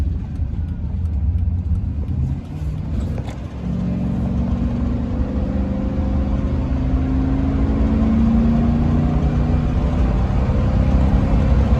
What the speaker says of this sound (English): I'm just giving it a moderate amount of gas